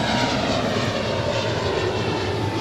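An Airbus A320 airliner, originally delivered to Northwest Airlines in 1999, at Los Angeles airport, its engines giving a loud steady roar that fills the whole moment.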